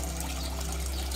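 Water pours steadily from the outlet of an aquaponic tilapia tank, a constant close splashing flow with a faint low mechanical hum underneath and no talking.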